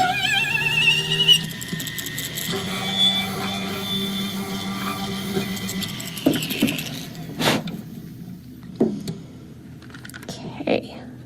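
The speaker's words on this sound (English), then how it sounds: "I'm going to come down in and do one more round of seat cutting" Seat cutting a tube bezel setting for a stone, with rapid whirring and grinding from a small rotary tool, followed by several sharp metallic taps and clicks, close up under occasional talk.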